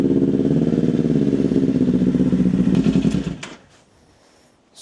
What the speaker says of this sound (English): now you're gonna hear the exhaust